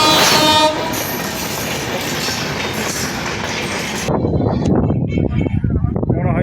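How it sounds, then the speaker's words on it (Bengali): A train races past at high speed toward Dhaka, a loud, close rush of roaring wind and rail noise that turns into a rapid, rhythmic rattle of wheels over track joints. "ট্রেন আসতেছে, দুর্বার গতিতে ছুটছে"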